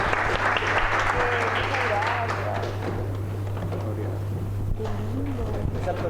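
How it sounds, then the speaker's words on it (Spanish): Applause from a live podcast audience fills the room, steady and fairly loud across the whole stretch, with voices mixed in underneath. "Oye, un aplauso para Chasqui"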